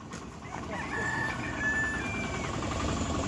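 Fighting roosters crow during fight practice, several drawn-out cock-a-doodle calls overlapping one another over a busy background of clucking fowl and low rumbling noise.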